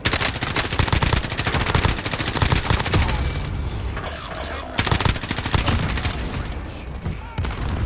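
Video game gunfire rattles in dense automatic bursts throughout, loud and close, with a brief lull in the middle before firing resumes.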